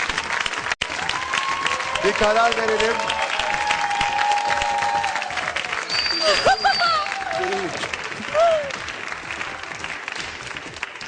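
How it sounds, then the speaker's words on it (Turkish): Studio audience applause on the Turkish game show Kapanmadan Kazan, a steady broadband wash of clapping that runs the whole time while a presenter talks over it. "Hadi alkışlarla gel yukarıya"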